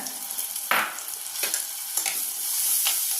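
Onions sautéing in a pan sizzle steadily while a spoon stirs them in four or five distinct scraping strokes, close and clear, with no talking.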